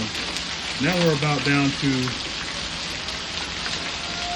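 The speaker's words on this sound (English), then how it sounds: "it's still hailing" Heavy rain and hail falling outdoors in Texas, a steady dense hiss of drops pattering on surfaces throughout, with a voice speaking briefly over it near the start.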